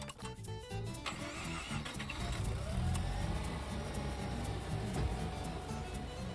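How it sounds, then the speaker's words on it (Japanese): A Mazda RX-7 FD3S rotary engine cranks with a rapid whir, catches and settles into a steady idle, close and fairly loud. "まずはエンジンをかけます。"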